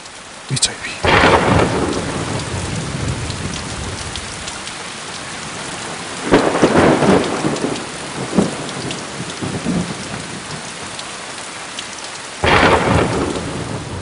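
Heavy rain pours steadily throughout a thunderstorm, broken by three loud thunder cracks and rumbles, one near the start, one in the middle and one near the end, with no voices.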